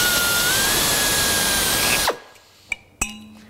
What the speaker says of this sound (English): we can drill through the bushing for the other one